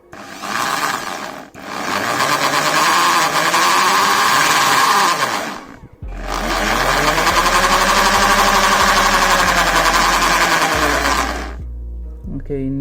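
Hammer drill running in hammer mode, two long loud bursts of buzzing, rattling impact drilling separated by a brief pause, close to the microphone.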